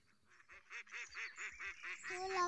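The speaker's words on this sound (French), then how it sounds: "Ils sont là-bas, les canards?" Ducks honk and quack outdoors in a run of rhythmic, nasal calls, about eight in quick succession, fairly close and clear against a quiet background.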